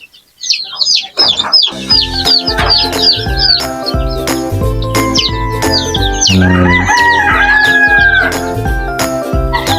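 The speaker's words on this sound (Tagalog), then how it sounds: "Ito po yung mga bago natin sisiw mga idol." Native chickens with a brood of new chicks: a rooster crows loudly and close several times over constant shrill peeping and clucking from the flock.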